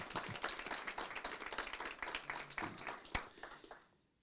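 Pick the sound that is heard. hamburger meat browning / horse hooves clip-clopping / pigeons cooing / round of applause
round of applause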